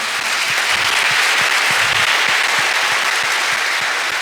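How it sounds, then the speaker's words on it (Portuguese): A congregation at a Catholic Mass applauds loudly and continuously, a dense, unbroken wash of many hands clapping at once that keeps an even level throughout. "Uma salva de palmas ao Senhor."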